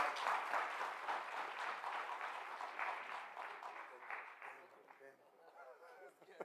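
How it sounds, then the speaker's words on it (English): Applause from a conference audience, a dense wash of many hands clapping that holds steady for several seconds, then thins and fades toward the end. "that is the applause that we are giving him."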